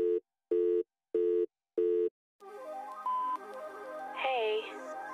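Phone call going unanswered, opening with four evenly spaced electronic busy-signal tones, then giving way to a muffled, warbling line noise.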